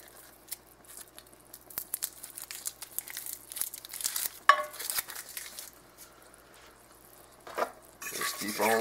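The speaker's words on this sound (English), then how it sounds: "Keep on stirring." Homemade gravy is stirred in a pan on low heat, with irregular scraping and clinking of the utensil against the pan, faint bubbling in between and a louder burst of scraping near the end.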